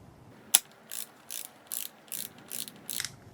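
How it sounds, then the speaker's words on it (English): A ratchet tightens a 10 millimeter bolt on an NP249 transfer case during a rebuild: one sharp click, then six evenly spaced bursts of close, crisp ratcheting clicks. "I'm going to switch over and tighten the 10 millimeter bolt"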